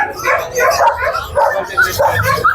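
Several dogs bark and yip in bursts at a crowded pet market in Bulacan, mid-distance, with people talking underneath.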